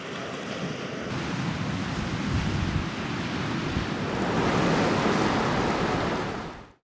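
Rough sea surf surges and crashes steadily along the Åland coast in strong wind, a dense continuous roar with wind buffeting the microphone and no voices.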